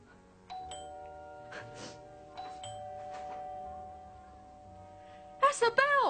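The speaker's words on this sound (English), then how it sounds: "That's a bell!" A two-tone doorbell rings twice indoors in a TV drama scene, the chime notes sustaining and ringing on clearly, followed by a brighter burst of sound at the end.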